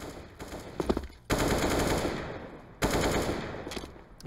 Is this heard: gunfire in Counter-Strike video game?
yes